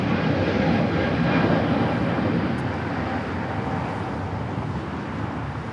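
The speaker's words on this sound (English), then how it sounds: "Polaris A321neo taking off." Volaris Airbus A321neo jet taking off at LAX bound for Guadalajara, a loud broad engine roar that builds slightly then eases off, steady and continuous with no talking.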